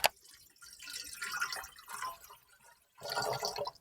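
Water poured into a bread maker pan for a two-pound loaf in an Elite Gourmet bread maker, a soft, hissing splash in two short pours, close and quiet.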